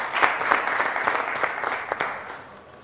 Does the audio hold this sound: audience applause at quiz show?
yes